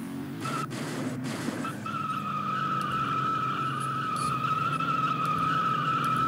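A car drifting in a Roblox video game, with a sustained tire squeal and skid over a steady engine drone, loud and continuous with no talking.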